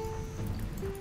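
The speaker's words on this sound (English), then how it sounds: "It's raining." Rain falling in the modded video game Rimworld, a soft, steady patter that runs throughout beneath sustained tones.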